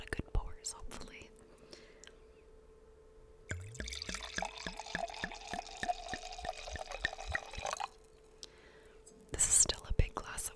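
Wine glugs and trickles into a glass in a quiet room during a close, whispery tasting of Christmas wines, the pour running several seconds with soft clinks at the end.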